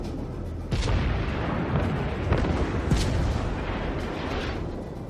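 Naval guns thud and boom repeatedly in a warship battle game, with sharp blasts near 0.7, 2.3 and 3 seconds standing out over a dense, continuous rumble of gunfire.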